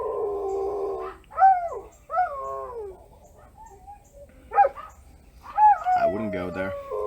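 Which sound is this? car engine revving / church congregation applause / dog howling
dog howling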